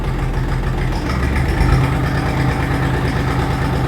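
A truck engine idles at about 750 rpm, close and loud. It makes a steady low throbbing hum with an even mechanical pulse and no speech over it.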